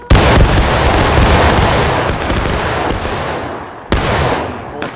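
A loud infantry volley in the Civil War game War of Rights crashes out at once, then rolls on as scattered rifle fire. A second sharp volley bursts in near the end.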